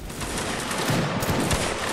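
A massed musket volley crackles through a Napoleonic-era line battle in a video game, a dense, loud, sustained burst of overlapping shots lasting a couple of seconds with no talking.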